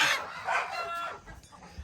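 Broody hens sitting on eggs cluck and call nearby, a few drawn-out squawks rising and falling, then quieter rustling.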